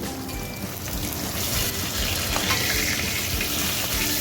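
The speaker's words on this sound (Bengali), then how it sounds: "আমার মাছটা কিন্তু এক পিঠ ভালোভাবে ভাজা হয়ে গেছে, আমি অপর পিঠটা উল্টে ভেজে নেব।" Continuous hissing crackle of fish frying in oil in a pan, turned over onto its other side, a dense, steady sizzle with a few faint clinks and no talking.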